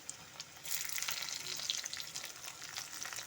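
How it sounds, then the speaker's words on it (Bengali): Potatoes fry in hot mustard oil with a loud, steady, crackling sizzle that bursts up suddenly and holds, with occasional stirring scrapes underneath. No one speaks. "আমি সর্ষার তেলটা গরম করতে বসিয়ে দিয়েছি তেল ভালো মতো গরম হয়ে গেছে এখন আমি প্রথমে আলুগুলো একটু ভেজে নেব"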